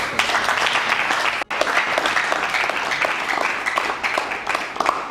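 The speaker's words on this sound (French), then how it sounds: "si vous pouvez vous applaudir vous-même" Audience applause at a meeting in Kinshasa, a dense, steady wash of many hands clapping close by, sustained throughout with a momentary dip.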